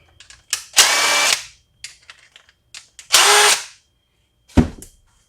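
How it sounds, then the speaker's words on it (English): Two short whirring bursts from a power tool spinning out the pair of 7mm bolts on a lawn mower carburetor float bowl, close up, with light clicks and handling noises in between and a final clunk. "first thing I'm gonna do is take the float bowl off. There's two 7mm bolts on there."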